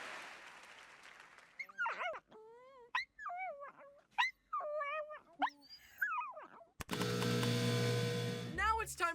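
A dog whimpers and yowls in a rising, squeaky sing-song, several separate wavering cries close by, followed by a burst of loud noise and more whines at the end.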